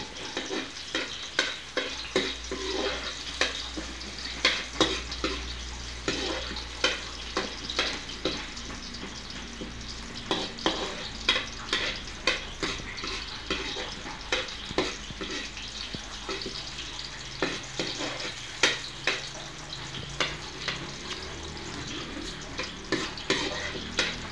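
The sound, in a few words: garlic and onions sautéing in a pan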